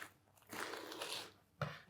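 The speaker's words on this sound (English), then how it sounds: "so I'll begin by cutting it first in half" A knife cuts through a crunchy baked Fior di Cotto, making a stretch of crisp, crackling crunch followed by a couple of sharper snaps near the end, close and fairly quiet.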